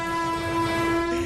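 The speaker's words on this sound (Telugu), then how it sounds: "ట్రైన్ కూడా దగ్గరికి వస్తుంది." A train horn blares in one long, steady, loud tone as the train approaches, with no voices over it.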